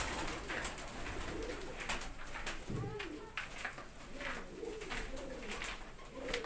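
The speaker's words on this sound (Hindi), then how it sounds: "हुण तुहानू इक होर जौं सिरा कबूतर दिखाउंदा" Jonsiry pigeons at a Faisalabad loft give repeated soft, low cooing calls close by, rolling in bursts over a noisy background of rustling and faint voices.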